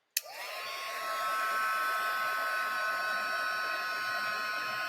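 A sharp click, then a steady, loud whooshing rush of blown hot air from a heat embossing tool, like a small hair dryer, running continuously without pause.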